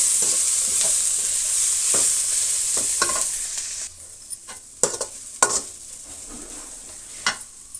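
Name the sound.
egg omelette gobi with grated carrot frying and stirring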